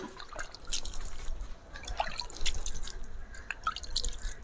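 Water trickles and drips slowly by hand onto potting soil in a small basket planted with jute greens, soft irregular drips and dribbles close by without speech.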